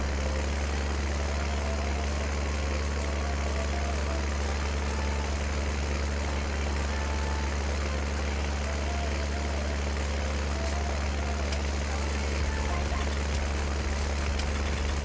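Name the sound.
old tractor engine in Farming Simulator 19 video game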